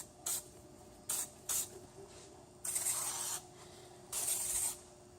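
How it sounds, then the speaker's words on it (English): Silicone mold release sprayed from an aerosol can onto PVC pipe casting pieces, four short hissing bursts, two quick ones and then two longer ones, close and fairly quiet with gaps of silence between. "Sprayed all the pieces with silicone mold release."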